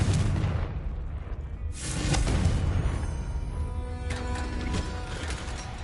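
Booming Confringo spell blasts in Hogwarts Legacy give a loud, dense rumble of explosive bursts that swell and linger with crackling debris throughout.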